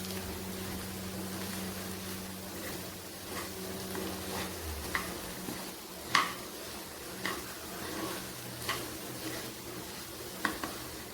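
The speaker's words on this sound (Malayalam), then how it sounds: "ആവശ്യത്തിന് ഉപ്പും ചേർത്ത് എല്ലാം കൂടി ഇളക്കി യോജിപ്പിക്കണം" Raw banana pieces with turmeric, chili powder, cumin, pepper and salt tossed in a pan: soft low sizzle with a few sharp clinks and scrapes of a spoon against the pan, near and fairly quiet, no talk.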